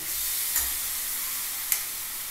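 Vegetables and dalia (broken wheat) being fried and stirred in a pan, a soft continuous sizzle with two brief spoon clinks against the pan, close up with no talking.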